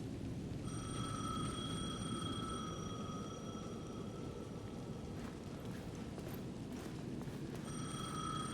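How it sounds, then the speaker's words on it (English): Payphone ringing in the video game Alan Wake 2: a steady electronic ring in two long bursts separated by a pause, set against constant heavy rain noise, with no talk. "payphone at the edge of the plaza was ringing again."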